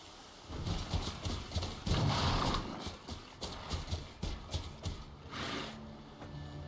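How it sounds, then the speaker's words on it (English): Horse hooves clip-clopping at a steady riding pace in the video game Horizon Zero Dawn, a continuous close rhythmic patter of hoofbeats with no talk. "Good of Gaia to make the horses have a saddle that you can use as a human."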